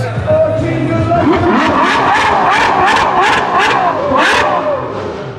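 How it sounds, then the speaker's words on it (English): Ferrari 812 engine revving hard, a loud, close, continuous roar with repeated rising and falling throttle blips at a car show or meet, the engine note dominating throughout. "is always good for a nice rev"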